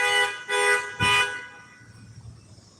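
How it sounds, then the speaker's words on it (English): A car alarm or horn sounds in the background, three loud electronic honks about half a second apart, then fading into low ambient noise. "Somebody's alarm going off."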